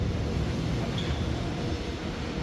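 Lagoon blue R151 metro train cars rolling past, giving a steady, even rumble of wheels and carriage noise at moderate distance with no voices.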